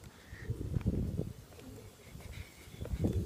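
Pigeons cooing at a loft of breeder pigeons at a former residence in Beijing, China, low soft repeated coos rising and falling over the whole stretch, fairly close, with faint background noise.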